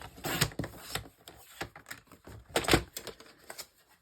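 Card stock sliced on a paper trimmer, cut down to a 9.5 strip for handmade card making: a run of sharp, close scraping and clicking strokes, some louder bursts, with no talking.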